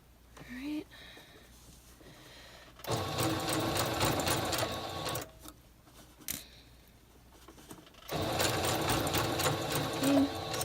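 A sewing machine stitches a blind hem on cosplay fabric, with a plastic guide feeding the fold to the needle. Two loud, steady whirring runs come between quieter pauses, and a person speaks during the gaps.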